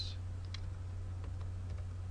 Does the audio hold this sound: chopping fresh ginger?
no